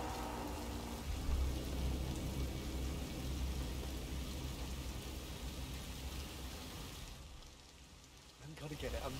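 Steady rain falls in Hitman 3, a constant hiss of drops on surfaces with a low rumble beneath, easing briefly near the end before picking up again.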